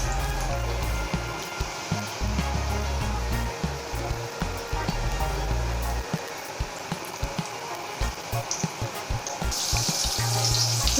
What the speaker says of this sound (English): So let it fry completely on one side, only then we'll turn it on the other side.